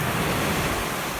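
Ocean surf and the incoming tide washing along a beach, a steady broadband rush of breaking waves filling the whole moment, close and continuous with no voices.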